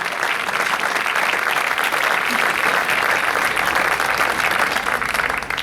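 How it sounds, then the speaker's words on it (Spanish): An audience at a padel exhibition applauds loudly and steadily throughout, a dense, continuous wash of clapping with faint crowd noise beneath. "Un fuerte aplauso."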